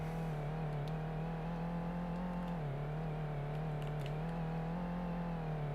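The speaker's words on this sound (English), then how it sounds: "The RPMs are not sounding right again" A synthetic car engine in a game built in Godot hums at a steady, buzzy, looped pitch that dips briefly and recovers, with imperfect RPM sound behaviour and no talk.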